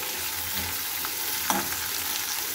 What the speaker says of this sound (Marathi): त्याच्यामध्ये आपण ही गवार टाकून देऊयात। त्याला थोडंसं एकत्र करून घेऊयात।